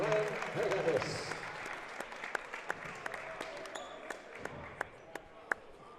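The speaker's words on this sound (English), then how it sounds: "Let's have a big round of applause for Akil Vaughn, Sean Donlan, and Ryan Henadekos" A gym crowd applauds basketball players at a men's college game, with scattered, moderate clapping and a few sharp claps standing out, under an announcer's voice and arena echo, thinning out toward the end.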